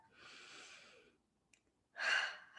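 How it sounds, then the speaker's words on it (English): A person in a closing-ceremony breathing exercise takes a deep breath, a soft airy inhale followed after a short pause by a louder, fuller exhale like a sigh, heard close and alone. "One more big breath."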